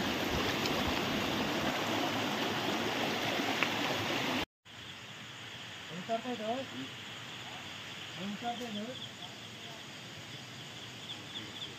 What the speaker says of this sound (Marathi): पाणी बघा किती फोर्सने वाहत आहे